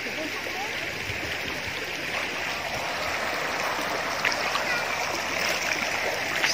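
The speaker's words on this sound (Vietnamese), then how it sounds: "Suối chảy róc rách." Clear forest stream babbling over rocks, a steady rushing burble with small splashes, fairly close and constant, with faint voices in the background.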